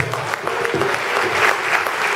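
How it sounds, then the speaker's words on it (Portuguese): A church congregation breaks into a brief burst of steady clapping, fairly close and full, with faint voices mixed underneath. "E isso merece uma salva de palmas."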